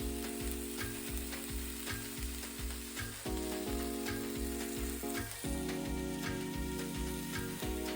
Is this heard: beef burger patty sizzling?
yes